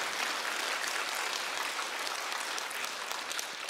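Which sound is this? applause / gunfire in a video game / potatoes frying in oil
applause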